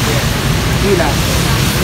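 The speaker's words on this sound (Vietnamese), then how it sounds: "mưa gió đi chợ ảm đạm" Heavy rain falls at an outdoor Vietnamese market, a dense, steady hiss of downpour close to the microphone with a faint voice buried underneath.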